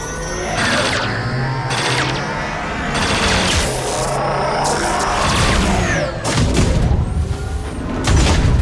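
Heavy crossfire rages in the video game Mass Effect 3. Loud bursts of rapid gunfire mix with booming impacts and crashes, coming in waves with short lulls before the shooting surges again.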